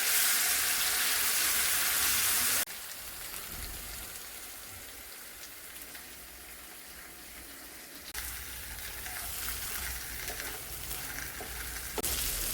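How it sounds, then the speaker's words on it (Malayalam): Mackerel fries in coconut oil in a pan with a steady, close, rain-like sizzle that runs throughout. Loudness changes abruptly in a few places, probably as the fish is turned. "അപ്പോൾ നമ്മൾ അയില ഇവിടെ ഫ്രൈ ആയിട്ടുണ്ട്."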